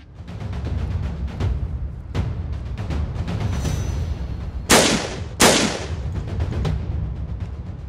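In a video game's final level, shots are fired at the sun from inside a stone circle. Two loud, sharp gunshots come close together, over a backdrop of fainter rhythmic clanks.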